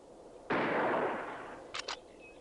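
A single gunshot while hunting in The Oregon Trail 3rd Edition, a sharp crack that decays into a long hissing tail, followed by two short faint pops.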